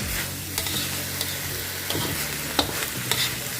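Salted beef with Thai basil and chili paste sizzles in a pan while being stir-fried, a close steady frying hiss broken by scraping strokes and clacks of the spatula.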